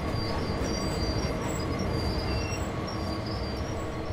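A Union Pacific SD40 freight train rolls through a refinery yard in Train Sim World 2, a steady loud rumble of wheels on rails with a thin high squeal running through it.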